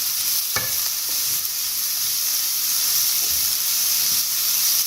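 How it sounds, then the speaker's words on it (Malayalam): Cabbage thoran, Kerala style, is stir-fried in a pan, a steady close sizzle and hiss with a few soft scrapes of the spoon stirring, with no talk over it. "നന്നായിട്ട് ഇളക്കി കൊടുക്കുക."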